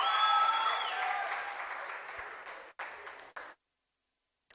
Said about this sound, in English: let's give another round of applause to our participants